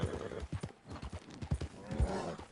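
Quick, close horse hoofbeats clip-clop at a brisk pace in Red Dead Redemption 2, with a brief snort or whinny-like breath mixed in and no speech.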